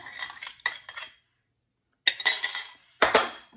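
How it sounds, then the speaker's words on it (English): Yeast gently stirred into liquid for pizza dough, a utensil clinking and scraping around a bowl in three short bursts separated by silence, close and clear with no talking. "Give it a gentle stir."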